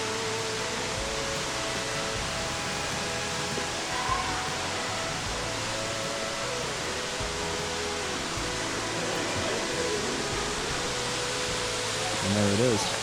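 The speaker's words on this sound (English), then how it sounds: "And there it is, the actual waterfall." Steady, dense roar of a waterfall echoing off canyon walls at Matthiessen State Park, Illinois, fills the scene, a broad continuous rush with no breaks, loud and close.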